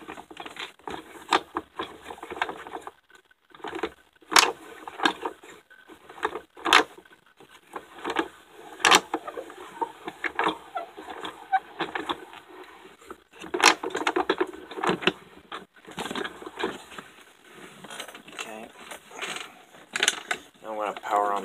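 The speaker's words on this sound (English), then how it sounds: "I gotta screw this in," A small device is screwed in by hand, giving sparse, faint ratcheting clicks and short mechanical ticks in irregular bursts with quiet gaps between them, indoors.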